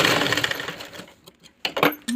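Sewing machine running a double stitch along a dress lining, a short burst of fast whirring stitching followed by a pause and a couple of brief mechanical clicks and clatters, close and fairly quiet.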